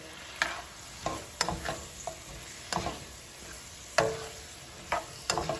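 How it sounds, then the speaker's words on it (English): A spicy garlic chili paste sauce being mixed together in a bowl, with irregular soft scraping and clicking strokes of a utensil, close and fairly quiet, without any talking. "now we're just going to go ahead and mix this all together"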